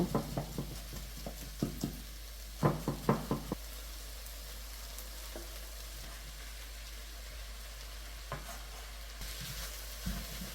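Vegetables and minced meat stir-fried for jjajang, a quiet sizzle under sharp knocks and scrapes of a utensil against the pan, clustered early then sparse.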